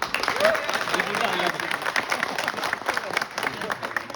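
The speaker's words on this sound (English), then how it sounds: "round of applause." Applause from the room at a cricket player auction for an indoor tournament, a steady patter of clapping running through the whole stretch with voices murmuring beneath it.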